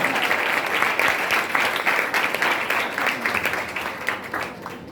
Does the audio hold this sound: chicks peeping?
no